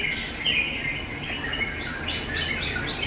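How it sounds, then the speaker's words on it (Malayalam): Birds chirp and tweet in a steady series of short calls over a soft outdoor background, moderately close, with no voices. "കിളികളുടെ ഒച്ചയും"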